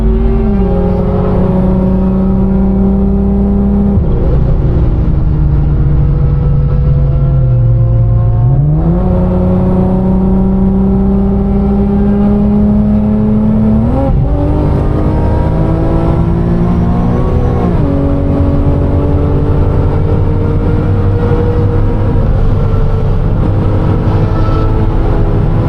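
A 700-horsepower supercharged Infiniti G37 pulls hard on a back road, its engine revving and climbing through repeated gear pulls with a loud, continuous roar and supercharger whine, up close and with no talking.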